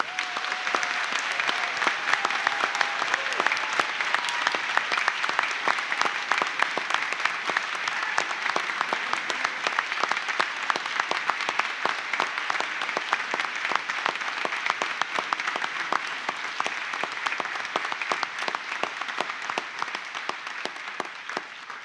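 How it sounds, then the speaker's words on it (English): A graduation audience gives the standing graduates a long, loud round of applause, a thick, continuous mass of clapping that holds steady for over twenty seconds before easing slightly. "give them a fantastic round of applause"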